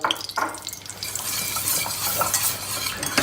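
Flour and oil being stirred in a cooking pot, a close, continuous scraping and swishing with a few clinks of the utensil against the pot.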